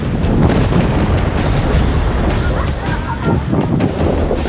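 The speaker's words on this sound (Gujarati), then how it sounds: "ભારે પવન સાથે દરિયો ગાંડોતુર બન્યો હોય તેમ દરિયામાં ભારે કરંટ હતો" Rough monsoon sea surging with heavy current at Gomti Ghat, Gujarat, lashed by strong wind; a continuous roar of breaking waves and loud wind buffeting the microphone, steady and close throughout.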